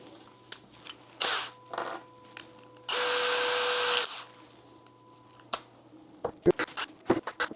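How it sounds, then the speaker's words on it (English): A power drill whirs in several short bursts, one longer run in the middle, followed by clicks and tapping. "I'm going to pre-drill these."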